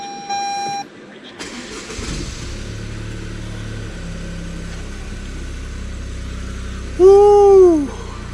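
Toyota GR Yaris starting up: a short chime, then the engine catches and settles into a steady low idle, ending with a brief rising rev, heard close by.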